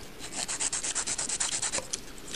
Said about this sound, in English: you're gonna file the top of the nail like this, like how you would normally file